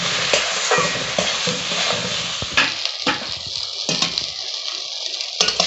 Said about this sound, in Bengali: হলুদ লবণ দিয়ে আমি বেগুনটা হালকা করেই ভেজে নেব।